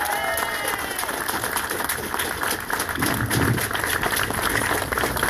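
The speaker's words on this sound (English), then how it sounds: "please give a warm round of applause for our mayor, Mayor Jim Kenney." A crowd at an outdoor city cleanup event applauds the mayor with a steady patter of clapping that carries on throughout, with voices and some cheering mixed in.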